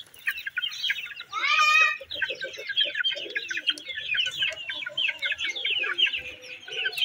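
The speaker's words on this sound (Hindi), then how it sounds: "मैं ये मुर्गों को थोड़ी थोड़ी और डाल देता हूँ" A flock of chickens and young chicks clucking and chirping busily while being fed finely chopped spinach, a close, continuous chatter of overlapping calls with one brief louder rising squawk.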